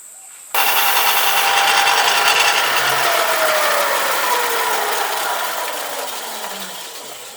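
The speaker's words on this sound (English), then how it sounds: "Now I'm just going to run this guy on the sander and bring him back a couple mil" A handmade swimbait is pressed against a running sander: a loud, sustained abrasive grinding whine that starts abruptly, holds steady, and then gradually tapers in pitch and level.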